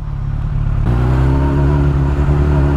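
Yamaha R sport motorcycle with a cold engine revving near the mic, a rough idle stepping up to a louder, sustained rev with strong harmonic buzz.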